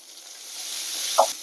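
Bell pepper, carrot, spring onion, cabbage and onion sizzling in a hot pan with garlic for Indo-Chinese Manchurian and fried rice, a steady soft hiss with a brief stir clatter near the end.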